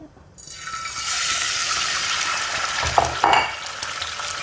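Cracked egg dropped into hot oil for qeema paratha sizzles loudly after a quiet start, a steady crackling fry with a couple of brief clinks partway through.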